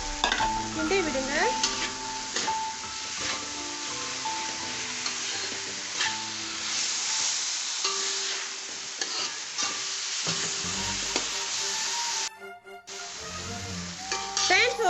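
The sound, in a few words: stirring cucumber frying in a pan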